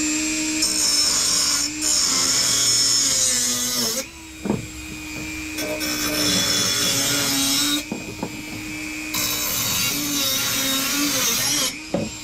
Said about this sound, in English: Get a drill.